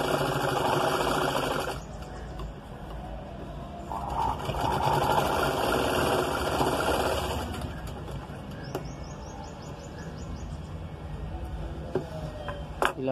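Sewing machine stitching blouse fabric, a steady mechanical whirr running in bursts with brief pauses between them, close and moderately loud, with a few faint chirps in the background.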